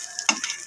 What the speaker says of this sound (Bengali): এই যে মাছটা আমার পুরোপুরি ভাজা হয়ে গেছে